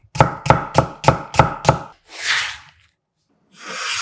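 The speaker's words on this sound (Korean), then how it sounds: "같은 두께로 채 썰어주세요." A knife chops a carrot into thin strips on a board, six quick, evenly spaced strokes followed by a couple of softer scraping sweeps, close and clear with no talk.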